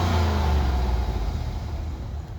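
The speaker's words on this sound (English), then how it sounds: "You can listen to the Jeep." A Jeep engine revs nearby, a loud deep roar that gradually falls away as it settles, with no talking.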